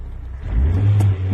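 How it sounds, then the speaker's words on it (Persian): Engine of an Iranian-made Pride car revving after being started, a steady low rumble rising in loudness midway and holding, close by with no talk. "دور موتورش هم کار میکنه"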